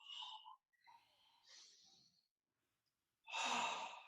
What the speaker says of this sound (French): respiration abdominale